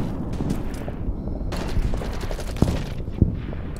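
Gunfire from US Marines in the Order of Battle war game on Saipan, a steady rattle of distant small-arms and machine-gun fire with a couple of sharper shots standing out, heard alone.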